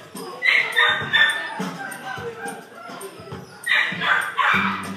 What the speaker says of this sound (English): Come and get this dog.